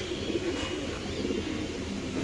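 Black Danish pigeons kept at a farm give soft, low cooing, a brief murmur set against a quiet background.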